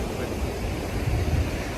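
Ocean waves breaking at an island in Senegal, a steady roar of surf mixed with wind buffeting the microphone, no voices.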